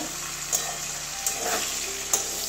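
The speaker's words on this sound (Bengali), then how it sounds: "সব কাঁকরোলগুলো লাল লাল করে ভাজা হয়ে গেছে" Spiny gourd (kakrol) pieces frying in plenty of oil, a steady close sizzle with a few brief sharper pops and stirring scrapes.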